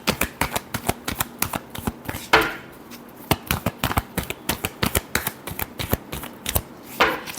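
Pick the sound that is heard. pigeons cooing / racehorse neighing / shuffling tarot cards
shuffling tarot cards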